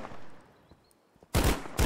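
Gunfire in the KARMA video game: two loud, dense bursts of shots near the end, after a quiet lull with faint distant sounds.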